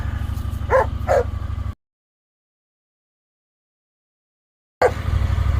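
Small dogs yipping and barking up close in two short bursts over a steady low engine hum; the sound then cuts to silence before the hum and a brief yip return.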